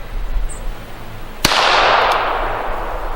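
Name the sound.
gunshots fired over a MagnetoSpeed V3 chronograph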